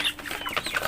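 Golden Kamper chickens, a crossbreed of Pelung and layer hens, cluck and murmur softly in a pen, giving a quiet, irregular stream of short calls with no voices over them.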